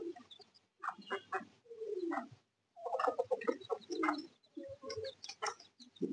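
Silver pigeon chicks cheep and squeak in repeated, uneven bursts close by, with brief pauses between the calls and no talking.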